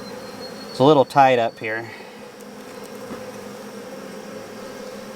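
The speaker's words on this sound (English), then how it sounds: "I've been shaking bees and working on queens all day and splits, and bees are pretty riled over here" Riled honey bees at an open hive during queen work and splits, a steady close insect drone running throughout, with someone talking briefly over it near the start.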